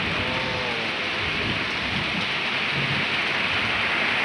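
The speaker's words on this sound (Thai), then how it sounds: "ในที่สุดสิ่งที่ข้อลอยรอคอยกันมาแล้วพี่น้องฝนตกลงมาแล้ว" Steady heavy rain pours down in a continuous loud hiss, with a low rumble of thunder under it and no voices.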